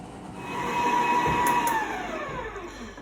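An electric hand mixer runs on its highest speed creaming coconut loaf cake batter, a loud steady whine that swells in pitch then slowly winds down, with no voices.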